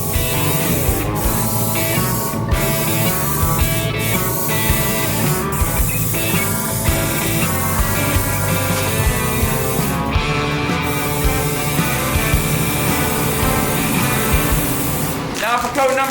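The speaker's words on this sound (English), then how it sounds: "Now I will spray on the Caspian Blue Metallic that I got off eBay." Caspian Blue Metallic spray paint hisses from an aerosol can onto a Ford Mustang, a loud, close, continuous spray with a few brief breaks between passes.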